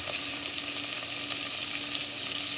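Chopped onion sizzles steadily in a hot pan of oil while cooking a banana-flower sabzi. The frying hiss is loud, close and continuous, with faint scraping stirs underneath.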